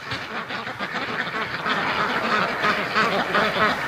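Domestic ducks quack continuously, several birds overlapping in a busy, close chorus that grows slightly louder toward the end, with no voices.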